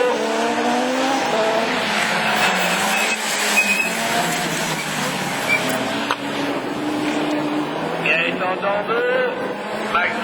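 Citroën Saxo Super 1600 rallycross cars launch from the start at Lessay, engines screaming at high revs with tire squeal, loud and continuous over the whole stretch.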